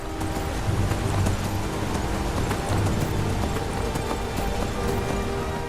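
Horse hoofbeats galloping in the video game Skyrim, a continuous rapid clip-clop under a dense layer of game ambience and rain-like noise, steady and fairly loud throughout.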